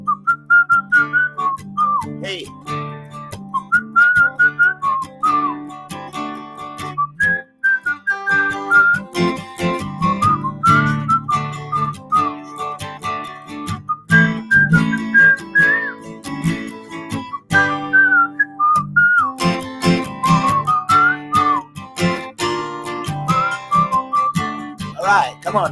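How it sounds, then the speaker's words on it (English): Someone whistles a melodic tune during a livestream, clear and close, carried over continuous backing music with rhythmic percussion, with a short spoken word at one point. "Can you whistle?"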